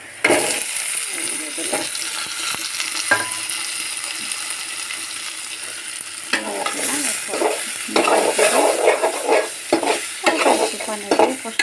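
Fish and tomato frying together in a browned spice paste for a tomato curry, a loud close sizzle with repeated scraping and clinking of a spoon stirring the pan, no talking.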